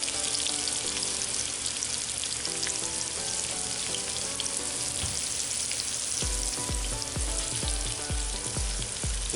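Okra pieces frying in a pan, a constant bright crackling sizzle throughout, with a series of soft low thumps toward the end as the pods are turned and moved around.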